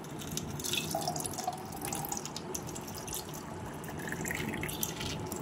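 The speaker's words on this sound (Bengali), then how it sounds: "আর এই যে নিচে কিন্তু জল পড়া শুরু হয়ে গেছে" Water poured over a Shiva idol during a home ritual trickles and drips steadily below, a continuous close splashing and pattering with no voices.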